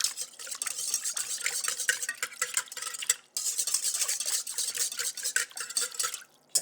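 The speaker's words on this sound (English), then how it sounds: "I'm gonna mix that so it dissolves in the water" Yeast crumbled into room-temperature water being stirred in a bowl for German Sunday bread rolls, a steady scraping swish of utensil against the bowl that pauses briefly partway, then carries on, close and moderately quiet.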